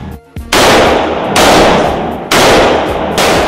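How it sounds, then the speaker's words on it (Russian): Rifle shots fired from a bench rest with 7.62 hunting cartridges: three loud, sharp blasts about one second apart, each with a long ringing echo tail, very close. "Стрельба со станка. Серия из 10 выстрелов."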